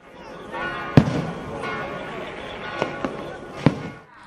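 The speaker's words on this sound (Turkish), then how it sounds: "Gece yarısında ise havai fişek gösterisi gerçekleştirildi." A midnight New Year fireworks display bursting at a distance, a few sharp booms spread irregularly over a crowd murmur, with voices talking underneath.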